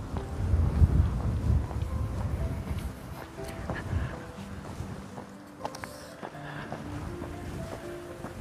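Gusty wind buffeting the microphone on Buck Hill in Theodore Roosevelt National Park, North Dakota, with a low rumbling roar, strongest at first and easing off, with faint voices and tones underneath.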